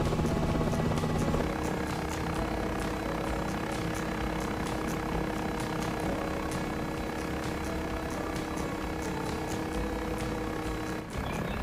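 Black Hawk UH-60 helicopter taxiing toward a runway in the Aerofly 2023 flight simulator, a steady loud rotor and turbine drone with rhythmic blade beats running throughout, no voices.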